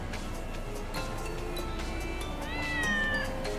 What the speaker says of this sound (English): we got internet cat videos in our email